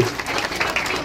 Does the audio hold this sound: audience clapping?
yes